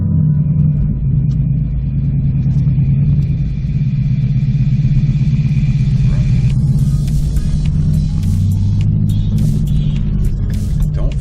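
A 2011-or-later Ford Mustang with a manual transmission and a Whiteline transmission insert drives along, its engine giving a steady loud low rumble from inside the cabin, with brief clicks and a voice faintly heard.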